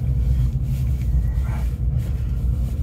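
A cold car engine idles steadily with a low, even rumble, close and constant throughout, with no voices.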